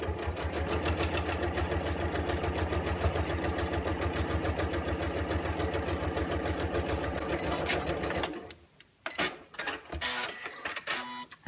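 A sewing machine fitted with a zipper foot stitches straight down through fabric on a patchwork coin purse, running as a steady, rapid, close mechanical chatter for about eight seconds, then stopping, followed by scattered handling clatter.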